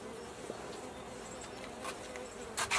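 Russian honey bees hum softly at close range from a two-deep hive, a faint steady buzz with a few brief louder flurries near the end.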